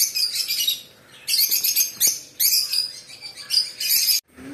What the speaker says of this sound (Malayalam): കൂട്ടിലുള്ള കിളികളൊക്കെ ഓരോരോ ഡിപ്പാർട്ട്മെൻ്റ് ആയിട്ടുതന്നെ തിരിച്ചിട്ടുണ്ട്